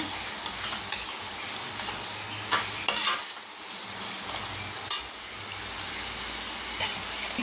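Tomatoes sizzle steadily in a hot pan while being sautéed for South Indian Chettinad-style sambar, with occasional scrapes and clacks of stirring rising over the constant frying hiss.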